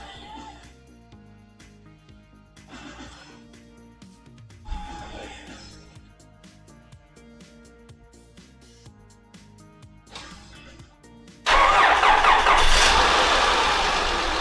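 Low mechanical cranking and rumbling as engines are started for an AC test, then an engine roars to life after a sluggish start near the end and keeps running loudly.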